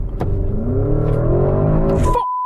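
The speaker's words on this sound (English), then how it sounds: "I'm going to floor the throttle." A Porsche Cayenne Turbo GT in Sport Plus mode accelerating at full throttle, its engine roaring loud and close with rising pitch, then a sharp cut as the revs drop, followed by a steady electronic tone.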